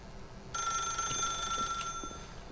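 A telephone rings in the video game The Stanley Parable, a bright electronic trill that starts abruptly and continues steadily and close for about two seconds with no talk over it.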